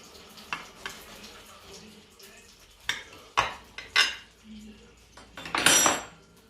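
A dessert topped with a strawberry is cut open on a plate, giving scattered clinks and scrapes of utensils against the dish, ending in a longer, louder scraping.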